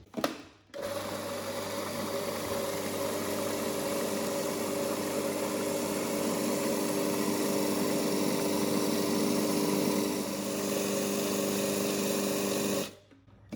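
A food processor grinds roasted almonds into butter with a steady, loud motor whir that runs without a break, starting and stopping sharply, with no one talking.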